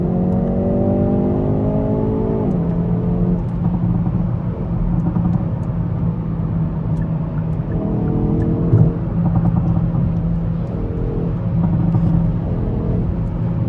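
A 2024 Hyundai i30N hot hatch accelerates hard, its engine note climbing in rising harmonic sweeps with audible gear changes, loud and close throughout with no talking.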